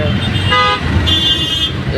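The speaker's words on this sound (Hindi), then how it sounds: "देखो कितना ज़बरदस्त ट्रैफिक लगा है" Busy roadside traffic with engines rumbling and a car horn tooting, loud and close, with people talking over it.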